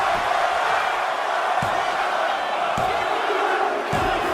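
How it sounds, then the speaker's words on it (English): A wrestling arena crowd roars steadily after a frog splash off the top rope, a loud sustained wall of cheering with a few sharp slams cutting through. "The crowd is on their feet."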